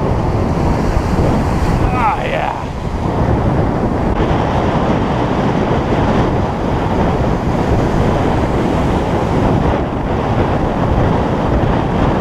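Ocean surf pounds a Cape Cod beach during surfcasting for striped bass, a steady loud wash of breaking waves with wind buffeting the microphone and a brief faint voice-like sound early on.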